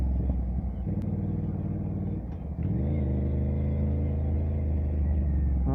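An Aprilia RS457 motorcycle on a ride through a small village market, its engine droning loudly and steadily at close range, with a brief dip in level before the engine settles back into an even rumble.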